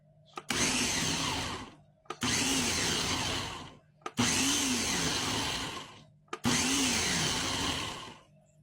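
A blender pulses salsa verde ingredients in four loud, separate bursts of whirring motor noise, each about two seconds long with short silent gaps between them, and no talking.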